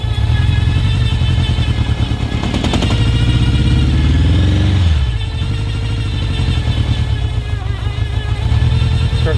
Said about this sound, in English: started making this whining sound